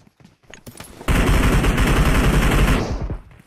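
Automatic gunfire in a PUBG Mobile match on the Georgopol map, a loud close burst of rapid shots after a few quieter scattered sounds, ringing for about two seconds.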